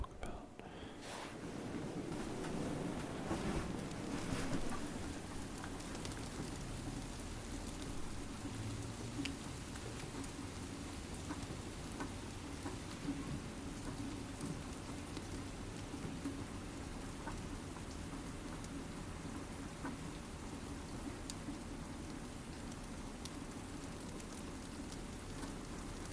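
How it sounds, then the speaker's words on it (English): Rain falls outside a car on a drive from the bush to the coast, a steady soft hiss of drops patting on the vehicle throughout, with a faint low hum of the car beneath. "Let's have a listen to the rain outside"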